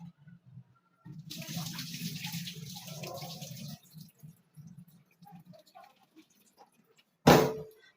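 Tap water runs into a pot as rice is rinsed before cooking, a close, steady splash lasting a couple of seconds. Softer swishing and drips follow, and a sharp clatter comes near the end.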